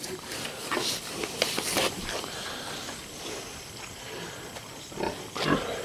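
A pig in a farm piggery grunts in short, soft bursts close by, with scattered rustling and movement between the grunts.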